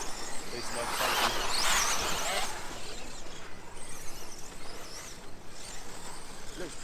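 A Tekno SCT 410 RC short course truck drives laps at a race track, its electric motor whining faintly in the distance under steady outdoor noise while a voice talks.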